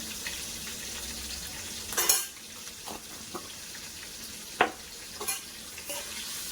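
Coriander and turmeric fry in oil in a pan with a low, continuous sizzle, broken by a few sharp clinks and scrapes of a spoon stirring against the metal, fairly quiet and close.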